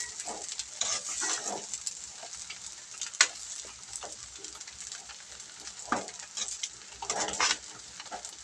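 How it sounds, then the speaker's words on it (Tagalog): Sinangag, Filipino garlic fried rice, being stirred in a pan, with a soft continuous sizzle and repeated light scrapes and taps of the spatula, fairly quiet and close. "Haluin muna mga bro, no? Pantay po ba luto ng sinangag."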